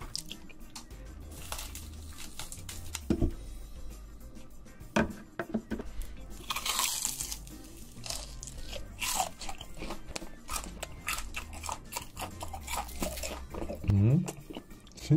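Crunchy bites and chewing of Cheetos corn puff snacks, fried, in an eating session, with repeated crisp crunches and mouth sounds at close range, interrupted by a person speaking.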